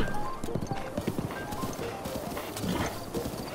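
Horse galloping in the video game Zelda: Breath of the Wild, a steady run of hoof clip-clops with a brief whinny, close and fairly loud over game ambience.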